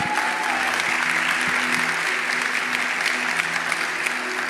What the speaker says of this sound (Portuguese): Um aplauso a Jesus.